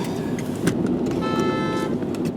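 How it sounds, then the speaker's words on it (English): A short car horn toot sounds briefly amid a steady rumble of road traffic and engine noise, heard from inside a moving vehicle. "Got my first beep for being a terrible driver."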